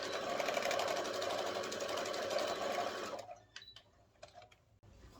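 A sewing machine runs steadily for about three seconds while stitching a straight seam in fabric, then stops, leaving scattered quiet clicks and handling noises.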